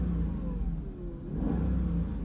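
A notably quiet car engine runs at a smooth, low hum, dipping slightly midway then steadying again, with no other sounds around it.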